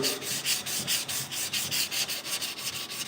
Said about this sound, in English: when you put the Scotch-Brite as an interface pad or a buff pad between your fingers, you get a more consistent sand